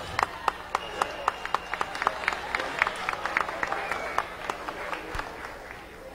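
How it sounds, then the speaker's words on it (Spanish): Audience applause at an evening serenade honoring Santa Rosa de Lima, heard as a steady wash of many hands clapping with sharp individual claps standing out, moderately loud and continuous, with some crowd murmur beneath. "Fuerte el aplauso."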